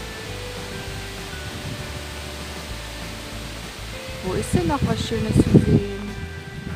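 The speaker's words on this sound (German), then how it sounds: "Auf jeden Fall ist es ein schöner Klang von diesem schönen Wind." A summer wind blows steadily outdoors as a soft, broad rushing hiss throughout. Toward the end a person speaks over it.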